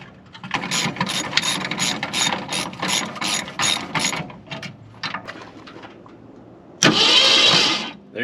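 A Ford Galaxie XL, parked for 38 years, cranks on its starter in a rapid, steady churning rhythm that falters near the end, then a louder hissing burst cuts in.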